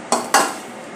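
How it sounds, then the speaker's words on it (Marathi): Roasted energy bar ingredients are mixed in a pan, producing two quick scraping clanks of a spoon against metal followed by a soft fading rustle. "आता हे जे आपण भाजलेले इन्ग्रेडियंट्स आहे ते मिक्स करून घेऊया."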